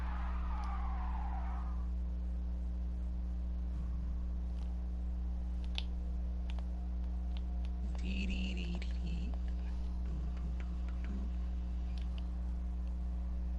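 A car in a video game skids in a short squealing burst at the start, then faint knocks and thumps follow over a steady low engine-like hum, with no talking.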